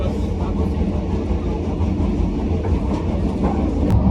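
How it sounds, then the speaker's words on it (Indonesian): Steady rumble and rhythmic clatter inside a moving rail carriage on a train ride, continuous and loud throughout with no pauses. "lagi naik kereta bang? Iya. Naik kereta kemana nih?"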